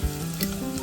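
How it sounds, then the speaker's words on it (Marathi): Garlic sautéing in hot oil in a village kitchen before fish fry, a loud close continuous sizzle over the whole short moment. "इकडं आता लसूण आणि परतून घेते तोपामध्ये"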